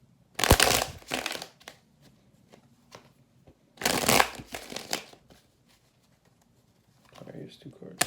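A deck of tarot cards being shuffled in two quick bursts close by, each a dense riffling flutter, with a lighter shuffle near the end and quiet pauses between.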